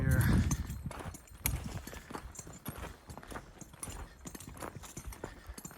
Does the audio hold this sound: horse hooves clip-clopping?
yes